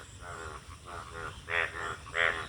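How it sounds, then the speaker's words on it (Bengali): Frogs croak in a rain-filled field, about six rhythmic, nasal bursts in a row, the later ones louder and close by. "ব্যাঙ যেন ঘ্যাঘু করে ডাকছে।"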